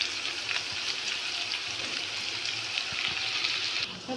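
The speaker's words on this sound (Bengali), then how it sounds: "তেলটা গরম হয়ে গেছে। রসুনটা একটু ভাজা ভাজা হয়ে আসলে সাথে দিয়ে দিব" Garlic frying in hot oil for a tamarind chutney gives a continuous soft sizzle with small crackles, heard alone without talk.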